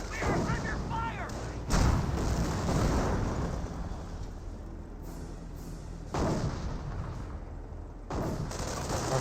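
Continuous Company of Heroes battle din, with rolling gunfire, artillery thuds and explosions layered densely throughout, loud and sustained with periodic heavier blasts.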